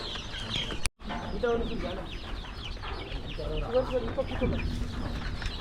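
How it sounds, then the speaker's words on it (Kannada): Chickens on a farm cluck and chatter in a busy, overlapping chorus nearby after a brief dropout, with a faint voice in the background. "ಕೋಳಿಗಳ ಸಾಕಾಣಿಕೆ ಮಾಡ್ತಿದ್ದಾರೆ"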